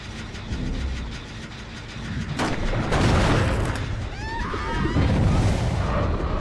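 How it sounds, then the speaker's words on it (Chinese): An explosive mine goes off in the horror game Dead by Daylight with a sudden loud burst. Rumbling game noise and a few high chirping calls follow. "爆炸地雷"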